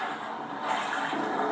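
Wading footsteps through sewer water in the Outlast video game, a steady watery sloshing and churning that swells slightly midway and continues without pause, close and moderately loud with no talk.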